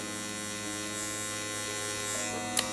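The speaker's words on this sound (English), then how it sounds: "Going with our soft trimmer." An electric beard trimmer buzzes steadily at close range with a constant motor hum, ending in a brief click.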